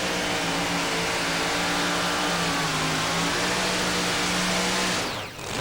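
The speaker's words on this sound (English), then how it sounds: "526 cubic inch Sassy racing engine that is tuned by Jerry Stewart" A 2WD pulling truck with a 526 cubic inch Chrysler racing engine roars loud and steady at a tractor pull, the engine note holding high and then dipping briefly near the end.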